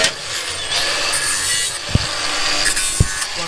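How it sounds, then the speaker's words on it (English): Angle grinder cutting into a three-piece car wheel, a continuous harsh abrasive whine with rasping scrapes and two brief sharp knocks, loud and close. "Now ruined by one man and an angle grinder."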